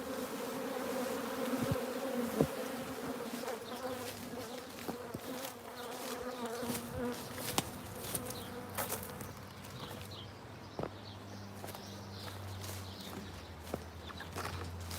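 Honey bees swarm around an open hive, a faint, continuous buzzing drone with scattered soft knocks and shuffling nearby.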